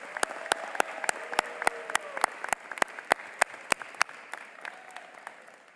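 Audience applause at a high school graduation ceremony, a steady crowd clapping with a few sharp, loud individual claps standing out near the recorder and faint voices underneath.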